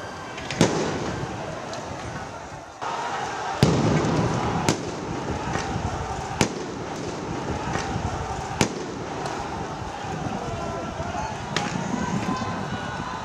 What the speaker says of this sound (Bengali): একটু পর পর গুলির শব্দ।